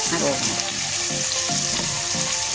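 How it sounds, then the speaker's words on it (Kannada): Onions frying in a pan for a homestyle chicken sambar, giving a steady close sizzle with a few soft rhythmic scraping strokes of stirring, no voices. "ಇವಾಗ ಈರುಳ್ಳಿಯನ್ನು ಫ್ರೈ ಮಾಡೋಣ"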